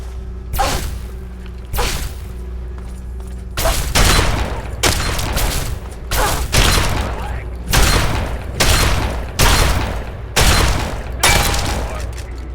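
Bursts of gunfire in Fallout 3, a series of loud, sharp volleys repeating roughly every second or two with brief gaps between them, and a low steady hum underneath.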